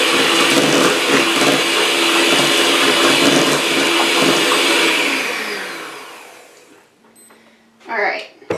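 An electric mixer whirs loudly and steadily as it beats cake batter in a bowl, then winds down and stops, followed by a brief clatter near the end.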